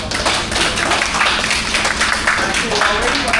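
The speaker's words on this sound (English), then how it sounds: "Let's give him a round of applause." Applause from a seminar audience, a steady dense wash of clapping hands lasting throughout, fairly loud and close.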